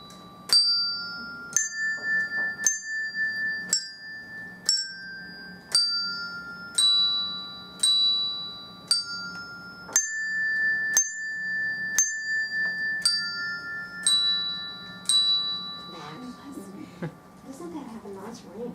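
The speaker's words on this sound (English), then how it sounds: "So let's hear just the bells play." Bells played one note after another in an even, unhurried rhythm, each clear ring decaying before the next strike, with the pitch stepping up and down through a simple tune over a faint room background.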